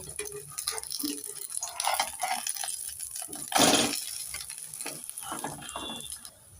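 A vegetable snack being flipped and frying in a pan, soft sizzling with scraping and clinking of a utensil, and one louder burst of sizzle as it turns over.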